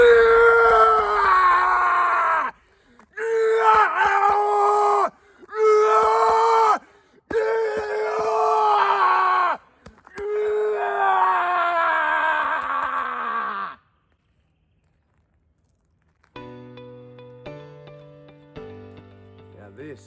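A person screams from the belly to release anger, with several long, loud, strained cries separated by short breaths, then a pause and a few soft sustained tones at the end.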